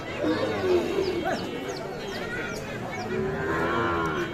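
A Sahiwal bull calf moos at a busy cattle market in cold weather. The long, low calls sound close amid crowd chatter and people talking nearby, with birds chirping faintly in the background.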